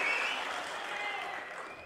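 Audience at a political speech breaks into applause, a steady broadband clatter of many hands that holds fairly even for about two seconds before tapering slightly at the end.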